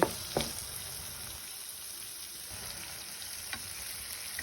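Tomatoes and onion frying in a pan give a continuous soft sizzle, with a couple of brief stirring knocks early on and no talk.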